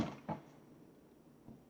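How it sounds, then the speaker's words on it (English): A drawer slides open by itself with a couple of short, close wooden knocks and a rattle, followed by a faint softer bump in a quiet room. "the drawer right here, all of a sudden just opened"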